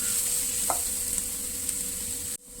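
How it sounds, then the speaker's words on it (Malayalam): A spiced mushroom mixture with chilli powder and garam masala is stirred in a hot pan, giving a loud continuous sizzle with a few scraping strokes before an abrupt cutoff. "എല്ലാം നന്നായി ഇളക്കി കൊടുക്കുക"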